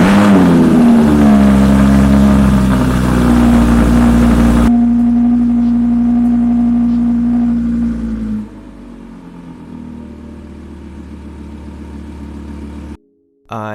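A car engine runs loudly inside a closed garage after a cold start, a strong steady drone with a humming tone that drops in level partway through, then settles lower before cutting briefly near the end.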